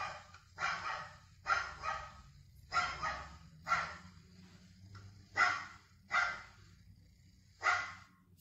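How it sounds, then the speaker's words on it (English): A recorded dog barks about eight times in a slow, fairly even rhythm, each bark clear and moderately loud against a faint low background hum. "Yes, it's the dog."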